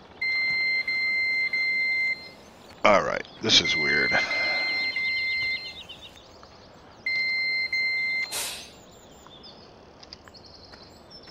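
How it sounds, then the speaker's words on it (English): Repeated high electronic warning beeps from a tractor's parking brake alarm in Farming Simulator 17 sound in steady bursts, pausing while someone speaks and other game noises briefly cut in, then resuming. "I'm not sure why it's beeping still, because I'm out of the tractor."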